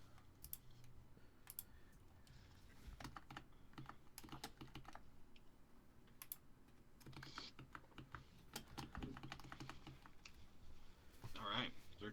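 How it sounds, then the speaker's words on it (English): Steady typing on an HHKB computer keyboard, with clustered key clacks that come in bursts and short pauses, close and fairly quiet under a faint background hum. "Right now I'm typing on my HHKB, which is pretty good."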